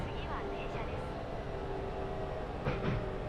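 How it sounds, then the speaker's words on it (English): Heavy train running at speed in a train simulator video game, a steady loud rumble and rolling roar that holds throughout with a brief louder burst near the end. "it sounds heavy, doesn't it, this train?"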